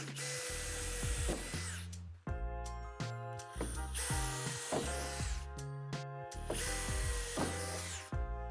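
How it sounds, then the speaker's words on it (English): A drill bit runs through the first layer of metal to drill out divots on the door of a Lifetime 8' x 10' outdoor storage shed, in three repeated close, loud bursts with ratcheting, clattering spin-downs between them. "drill them out with the provided drill bit, making sure to only go through the first layer of metal"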